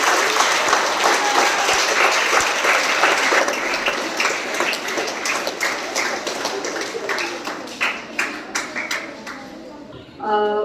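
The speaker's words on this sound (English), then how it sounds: "Give a round of applause for them." Applause at a school fire-less cooking competition prize announcement, a dense sustained crowd clapping that thins into scattered claps toward the end.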